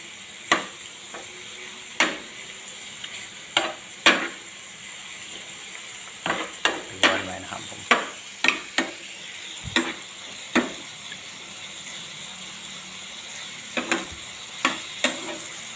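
Chicken for Isan-style larb stir-fries in a pan with a steady oil sizzle, punctuated by irregular sharp clacks of a utensil scraping and tapping the pan, close and clear.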